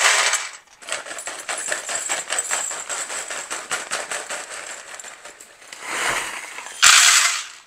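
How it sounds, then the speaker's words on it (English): Dry snack mix ingredients such as Cheerios, wheat and corn Chex and peanuts poured onto a regular baking sheet, giving a steady close rattling patter of many small pieces for several seconds, easing off, then a final louder clatter. "In a regular baking sheet, just start putting in all your dry ingredients."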